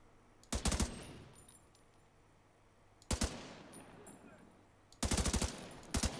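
Automatic gunfire in the video game The Division 2 comes in three sharp, loud bursts of rapid shots separated by quieter stretches of low background hum.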